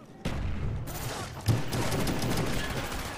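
Dense gunfire in Call of Duty: Black Ops on PC, loud rapid shots and explosions in a continuous burst, with a sharper impact near the middle.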